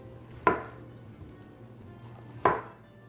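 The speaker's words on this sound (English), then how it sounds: "Slice them again." A knife slices through long, skinny peeled sweet potatoes being cut into pieces for dehydrating, with two sharp, distinct cuts about two seconds apart in a quiet kitchen.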